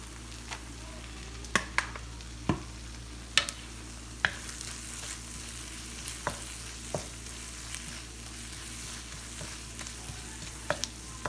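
Onions, tomatoes and seasoning for a Haitian vegan legume frying in a pot, a soft steady sizzle close by, punctuated by scattered clicks and taps of a spoon stirring, with no talk.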